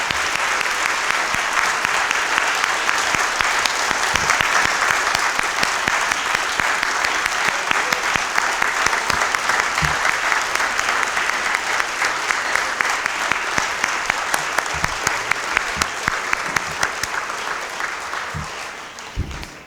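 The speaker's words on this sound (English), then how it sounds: "I want everybody to give him a round of applause because he's a hero." A banquet audience gives a sustained round of applause, dense loud clapping from many hands holding steady for nearly twenty seconds before easing slightly at the end.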